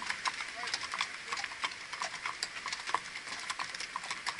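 Mérens horses' hooves clop and splash in an irregular rhythm through running water, with a steady watery rush underneath.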